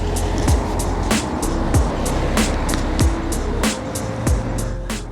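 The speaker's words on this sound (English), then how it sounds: "now as I talk, we've got cars going past" Cars pass steadily along a busy road, a continuous traffic rumble with several vehicles swishing by in turn at fairly close range, recorded on a Saramonic Blink500 B2+ wireless microphone.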